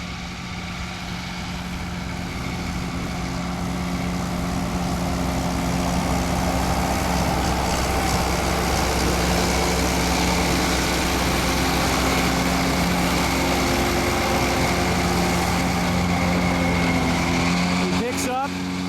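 A disc bine mower conditioner works a hay field, its black conditioner rolls spinning with a continuous loud whir over a steady engine drone that holds unbroken throughout.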